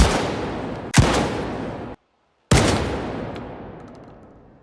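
Two loud single shotgun shots in S.T.A.L.K.E.R. 2 a second or so apart, then a third after a brief silence, each with a long echoing decay.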